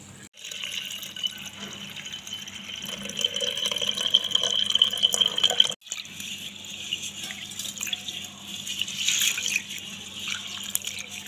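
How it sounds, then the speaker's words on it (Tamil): Water pours and splashes into a container of rice being rinsed for several seconds, pauses briefly, then resumes with a lighter trickling sound. "இதை இப்போ ரெண்டு தடவை தண்ணி ஊற்றி அலசிக்கலாம்"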